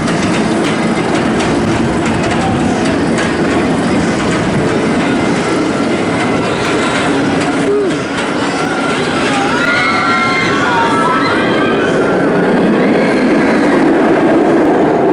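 Raptor, a 1994 B&M inverted roller coaster at Cedar Point, roars over the main midway with a loud, continuous rumbling rush that holds steady for the whole stretch without pause.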